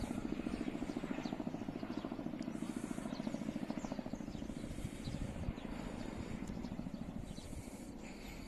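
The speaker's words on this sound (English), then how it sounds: "When you see the Ka-52 in the distance, this is flying in between the hills." Kamov Ka-52 attack helicopter flying low between hills, its rotors giving a steady rapid chopping thrum, distant and faint but continuous throughout.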